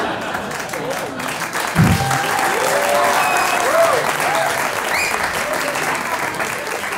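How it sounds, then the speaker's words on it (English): A stand-up comedy audience applauds in a dense, continuous burst of clapping with scattered whoops and cheers, while the comedian's voice comes through over the crowd. "We'll see if you're still clapping after this next part."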